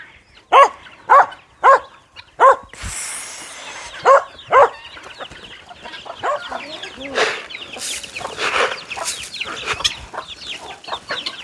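Farm dog barking in a rural Brazilian smallholding, a run of loud close barks at the start, then scattered clucking chickens, rustling and a voice talking in the background.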